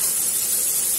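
Fish head browning in a pan of seasoned oil for pirão broth, giving a steady, loud, dense sizzle and hiss that holds evenly throughout with no talk over it.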